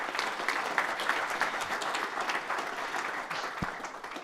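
Sustained applause from an audience at a small-business pitch event, dense and steady clapping filling the room for the full stretch, with a brief low thump near the end.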